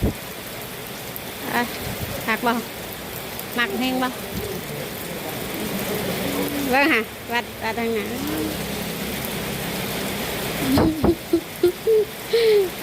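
Steady rain falls throughout during an outing to take a young boy for a haircut, a continuous hiss under nearby voices that talk on and off.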